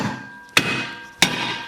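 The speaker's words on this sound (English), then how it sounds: "then we just hit it with a hammer on the edge of the rotor" A hammer strikes the edge of a brake rotor on a rear-brake job on an MK7 GTI, two sharp metallic blows about half a second apart, close and loud with a ringing decay after each.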